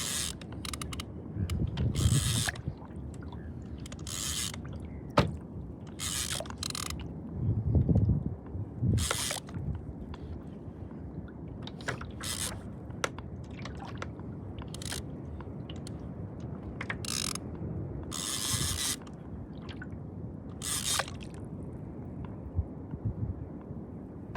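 Fishing reel drag clicking in rapid ratcheting bursts while a hooked fish is played during a fishing trip, steady mechanical clicks recurring over background water and handling noise, no talk.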